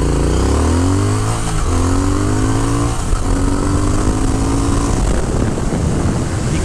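A 2022 Triumph Speed Twin accelerating hard from a standstill on a country road, the engine note climbing through gear changes with loud rising revs and heavy wind rush close to the rider.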